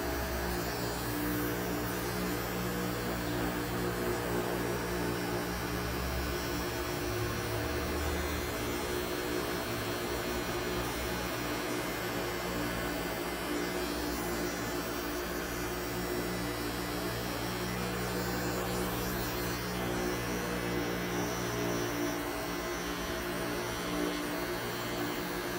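Electric hair clipper buzzing during a barbershop fade haircut, a steady close electric hum with a strong tonal drone that runs unbroken and evenly loud throughout, with no talk.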